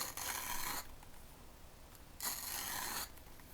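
A fork scrapes strips down the length of a zucchini, two rasping strokes separated by a short pause, close but faint, with no talking.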